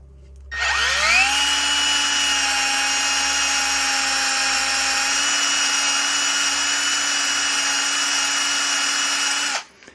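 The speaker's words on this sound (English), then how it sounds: "I can get actually a little bit better drill bit too. See if I can get a little bit more speed on it" A power drill drilling metal spins up and whines steadily at high speed for several seconds, then cuts off abruptly; no talking.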